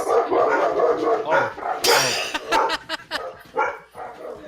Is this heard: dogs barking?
yes